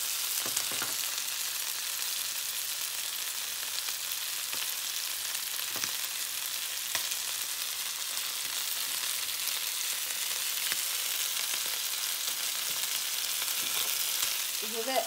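Lamb choukouya cooking covered over low heat, giving a steady, even sizzle that hisses continuously at moderate level, with a few faint clicks and no voices.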